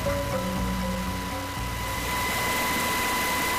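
A twin-engine, twin-rotor Chinook helicopter gives off a loud, continuous roar of engines and rotors with steady whining tones held throughout and a slight shift in pitch midway.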